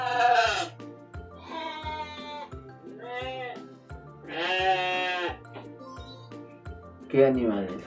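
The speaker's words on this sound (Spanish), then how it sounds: "¿Qué animal es? Una oveja." A sheep gives several wavering bleats, some loud and some softer, spaced over a steady, regular ticking beat in the background.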